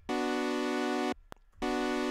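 Sylenth1 synth pad layering a square wave with a saw wave an octave higher. Two sustained, buzzy held chords, each about a second long, separated by a short gap with a faint click.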